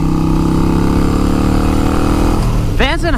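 A Harley-Davidson Iron 883 with a Vance & Hines VP3 exhaust and stage 1 tune, running loud and close with a deep, steady, throaty rumble. The engine note shifts near the end, and a voice briefly comes in over it.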